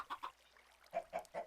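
Chickens in a Minecraft modpack give soft, quiet clucks: two quick ones, a short pause, then three more in a row.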